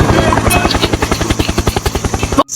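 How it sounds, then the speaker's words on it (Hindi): A helicopter's rotor beats in a fast, steady chop, loud and close throughout, then cuts off abruptly near the end. "हेलीकॉप्टर"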